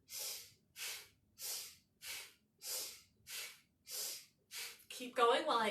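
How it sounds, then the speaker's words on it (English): Sniffing and snorting breath during a Kundalini yoga twisting exercise: eight rhythmic, sharp nasal breaths about half a second apart, close and breathy, followed by a voice speaking at the end. "Sniff and snort."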